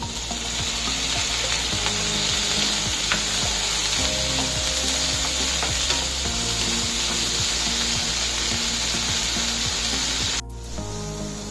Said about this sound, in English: After sauteing for about 2 minutes,